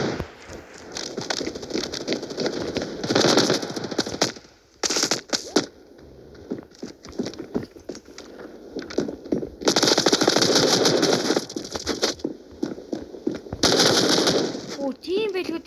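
Rapid bursts of gunfire from the video game Standoff 2, with dense clattering volleys, short pauses between them, and loud sustained stretches near the middle and end.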